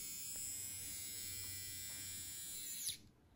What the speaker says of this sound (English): And it turns the shaver on at the same time.